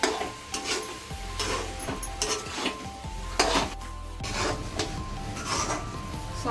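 A coconut and sugar mixture is stirred in a pan for coconut barfi, with repeated scraping strokes of a spoon against the metal over a soft sizzle, close and steady with no talk.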